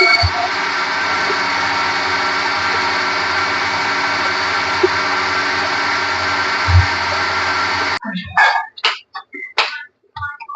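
A mixer grinder whirs steadily at high speed, blending chakrakeli banana juice without sugar for about eight seconds, then cuts off, leaving a few clatters and knocks of handling the jar.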